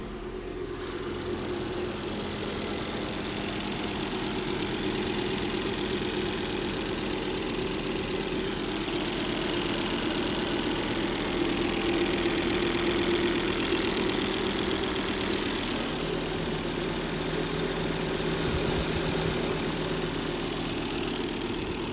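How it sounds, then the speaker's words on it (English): A Volvo S60 with a 2.5-litre turbo engine and about 139,000 miles idles steadily up close. The low, even hum carries an unbroken, faintly knocking texture for the whole stretch, with no one talking. "It's a good running motor."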